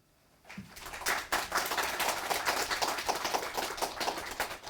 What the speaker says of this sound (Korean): 관계자 여러분의 노고에 큰 박수 부탁합니다